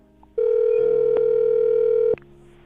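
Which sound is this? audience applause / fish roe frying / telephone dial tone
telephone dial tone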